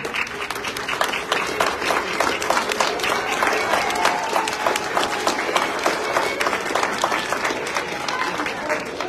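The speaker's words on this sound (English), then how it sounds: "Graduates, please stand and give your family and friends a round of applause." Standing graduates at a Lincoln Tech Philadelphia spring graduation ceremony applaud their families and friends, a sustained, loud wash of clapping from a large crowd in a hall, with scattered voices and cheers underneath.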